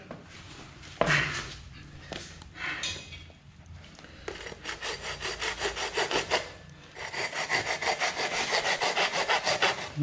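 Rhythmic rasping strokes of a hand saw cutting through wood, steady back-and-forth, close and fairly loud, with a few knocks and pauses between bursts.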